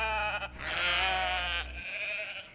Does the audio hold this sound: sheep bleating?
yes